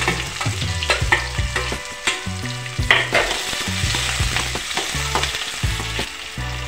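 Chopped onion and cumin seeds frying in hot oil, a loud continuous sizzle broken by repeated clanking spoon strokes against the pan, close up and without any talk.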